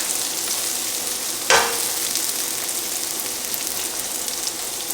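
Garlic and crushed red pepper fry in a pan with a steady, close sizzle, and a single sharp stirring scrape or clatter comes partway through.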